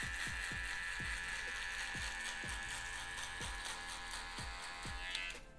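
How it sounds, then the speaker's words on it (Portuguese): Electric finishing clipper buzzing steadily while trimming hair, removing a guide line during a haircut, with a regular series of soft clicks or taps under the continuous hum. "com a própria máquina de acabamento, a gente vai tirar essa marcação aqui"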